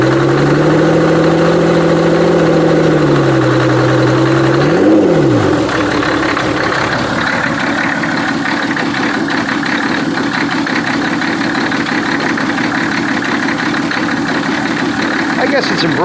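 The engine of a 1985 Oldsmobile 98 with a replaced injector pump runs at part throttle, a steady loud drone whose pitch drops and settles partway through, close by, with someone talking over it.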